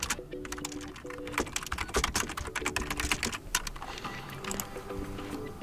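A computer keyboard is typed on in quick irregular bursts of close, crisp key clicks with brief pauses between, and no talking.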